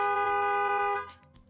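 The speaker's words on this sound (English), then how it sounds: "Some lady in a black SUV was just blaring her horn" A horn on a black SUV blares in one sustained, loud honk for about a second before cutting off, heard outdoors with faint street ambience after it stops.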